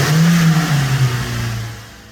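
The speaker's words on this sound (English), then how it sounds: "The Corolla fired up on the first try." A Toyota Corolla engine, recently cleaned of sludge and fitted with new coils, plugs and fluids, fires up loud and close and settles from a high rev into a lower, steady idle.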